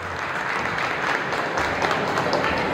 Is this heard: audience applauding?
yes